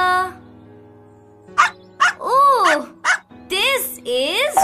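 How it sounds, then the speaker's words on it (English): Short bursts of puppy barking and yipping, several close, bright barks with a few pauses, set between cheerful voices in a cartoon-like scene. "is Raja, our puppy. He is very naughty"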